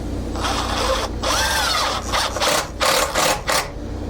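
A power drill drives a screw into pallet wood for a rustic tool caddy, the motor whirring in close bursts that rise and pause as the screw bites, with no talk.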